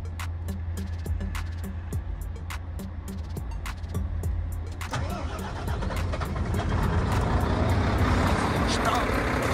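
Engine of a heavy truck on a long-haul trip with a troublesome start: a steady idle rumble first, then the engine catches and revs up into a louder, rougher roar, close by with no talk.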